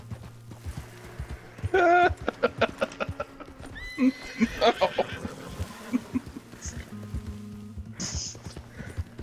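Horse hooves clatter in quick runs with a loud whinny, game-like effects from Red Dead Redemption, and people chatting over the action.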